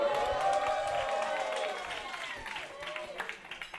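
A live comedy show audience in Brooklyn cheers and applauds, with a burst of loud whooping voices at first that gradually thins into scattered clapping and shouts.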